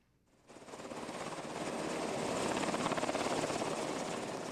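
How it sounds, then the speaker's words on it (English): A Marine One helicopter in Brazil starts up and runs. Its rotor chop is loud and close and swells to a steady, pulsing roar with no speech. "That was the sound of President Joe Biden boarding a Marine One helicopter in Brazil before flying"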